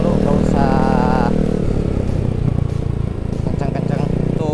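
Low-speed engine drone from a Yamaha Mio motorcycle, steady and close, with voices talking over it early on before the engine carries on with a rougher clatter.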